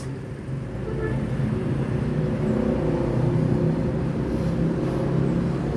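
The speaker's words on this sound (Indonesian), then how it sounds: "Bus yang kelima masuk Terminal Palembang pagi ini" Bus engine rumbling steadily as a Sultan Class coach pulls into Palembang bus terminal in the morning, a low continuous drone close by with no voices.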